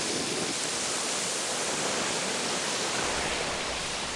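A waterfall roars with a steady, loud, dense rush of water that stays even from start to finish, with a light breeze blowing near the falls and no voices present.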